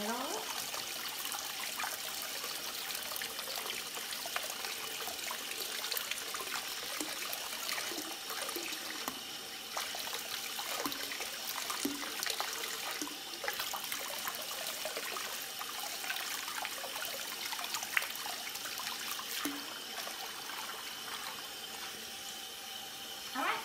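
Bathtub jets churn and bubble the water while a bath bomb fizzes in it, a steady gurgling wash with scattered splashes and trickles that runs throughout at moderate, fairly close level.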